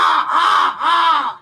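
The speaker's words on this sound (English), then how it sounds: "I made friends with the local crows and ravens." Local crows caw loudly and close by, giving two long harsh calls back to back with a brief dip between them, and no other sounds alongside.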